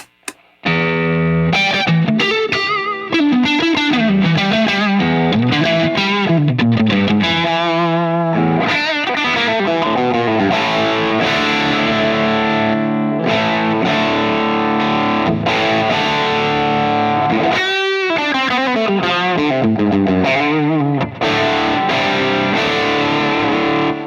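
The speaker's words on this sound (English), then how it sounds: "Add a little bit of light Klon style distortion with a J-Rocket Archer." Electric guitar through a Mesa Boogie Mark VII amplifier with a J-Rocket Archer Klon-style pedal adding light distortion, playing loud, continuous chords and riffs with sustained, saturated notes and brief pauses between phrases.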